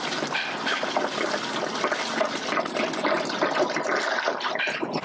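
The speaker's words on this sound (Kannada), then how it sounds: "ಈಗ ಮತ್ತೆ 2 ಕ್ಯಾನ್ ನೀರು ಹಾಕ್ಕೊತಾ ಇದ್ದಾರೆ" Water gushes from a can into a large pot of mutton biryani at Attibele Raj in Bangalore, a loud, steady pouring rush that runs unbroken for several seconds.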